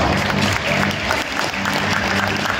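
Audience applause at a flag-raising ceremony, a steady, loud wash of clapping from a crowd held evenly throughout with no talk over it.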